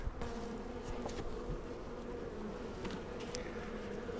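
Honey bees buzz steadily in an open spring hive, a dense continuous drone close by with a few brief louder passes of individual bees near the frames.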